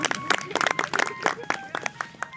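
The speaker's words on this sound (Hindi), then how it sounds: "ताली जोर से बजेगी, है ना।" Audience clapping during a Hindi devotional talk: a burst of quick, uneven claps from a gathered crowd, fairly close, with a voice running underneath.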